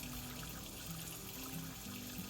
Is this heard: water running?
yes